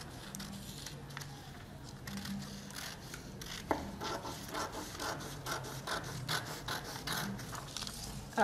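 Fabric being cut for a sewing project, with repeated scissor snips and rustling cloth close by, steady and mid-level throughout.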